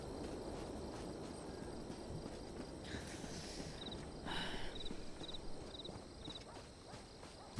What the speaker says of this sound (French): C'est bien les grillons, j'aime bien les grillons.